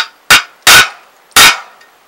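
A hole punch is hammered into footboards with three sharp metallic strikes at an uneven pace, loud and close, each ringing briefly before fading.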